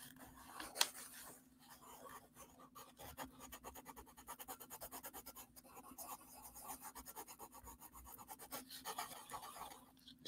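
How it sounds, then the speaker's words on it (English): A pencil is sharpened in quick, repeated, faint rasping scrapes with short pauses between bursts, recorded close in a quiet room. "Sharpening."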